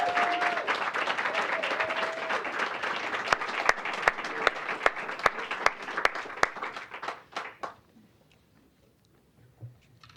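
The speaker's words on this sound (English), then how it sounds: "Friends, again, a round of applause for the Food System Initiative team" Audience applause at a United Way awards ceremony, sustained and full for about seven seconds with some sharper individual claps, then tapering off into near silence.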